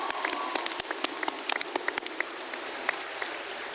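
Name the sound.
audience applause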